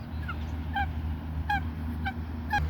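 Geese at Danson Park giving several loud honks in quick bursts, fairly close, over steady low outdoor rumble and wind with no talking.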